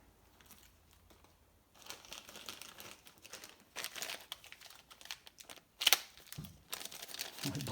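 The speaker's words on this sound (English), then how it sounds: "It opens a plastic bag though." A plastic bag being sliced open with a dull blade, giving bursts of crinkling and tearing plastic with short sharp crackles, close and fairly quiet, with no talking.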